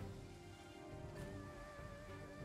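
Steady rain falls across a battlefield in the strategy game Total War: Three Kingdoms, a continuous soft hiss with faint tonal game sounds layered underneath, quiet and even throughout.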